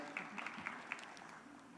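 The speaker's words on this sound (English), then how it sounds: "they both deserve, again, a great round of applause" Banquet audience applause, a soft, distant spread of clapping that patters on steadily for a couple of seconds, with a faint murmur of voices beneath it.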